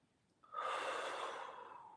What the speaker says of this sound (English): Take a nice deep breath down here.